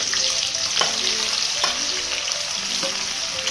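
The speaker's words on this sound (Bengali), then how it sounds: "তেলটা বেশ ভালোভাবে গরম হয়ে গেলে ওই যে কুচিয়ে রাখা পেঁয়াজগুলো সেগুলো এর মধ্যে দিয়ে দেব।" Chopped onions frying in hot white oil in a wok, giving a steady, loud, dense sizzle with a few sharp crackles and light stirring scrapes throughout, no voices.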